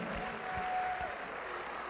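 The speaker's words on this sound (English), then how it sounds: "Hey, give yourselves a round of applause." An audience at the Arkansas Boys State general assembly gives a round of applause: soft, steady clapping heard from a distance, with no talking over it.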